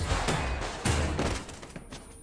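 Gunfire exchange in an action film scene about an arms shop, several sharp shots and heavy thuds in an uneven burst, loud and close, fading toward the end.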